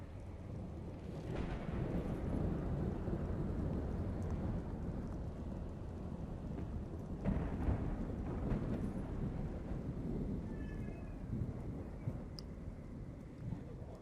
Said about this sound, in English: It's also impossible to see during the storm.